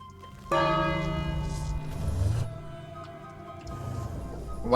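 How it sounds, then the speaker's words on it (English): A church bell in the King's Quest video game strikes once with a loud, ringing tone that sustains and slowly decays, then a second strike begins at the very end. "Why'd I ring the bell?"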